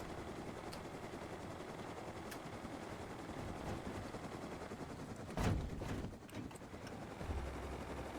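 A helicopter in an online shooter game, a faint steady rotor drone under distant gunfire bursts, with a few sharper shots near the end.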